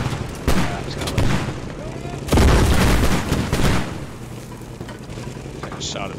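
Tank cannon and gunfire in a modern tank combat video game, with a heavy boom and sustained rumbling bursts amid scattered shots, under brief voice chatter.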